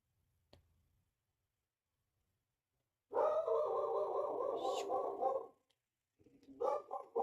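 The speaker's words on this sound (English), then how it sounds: "So lovely to be serenaded by my dog." A pet dog barks and howls indoors, one sustained, loud vocal outburst lasting a couple of seconds after a faint click, followed by a shorter second burst.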